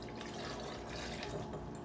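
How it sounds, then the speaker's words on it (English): Margarita mix poured into a container, a continuous soft liquid stream with light dripping, faint and close, with no talking. "So I'm going to pour in my mix."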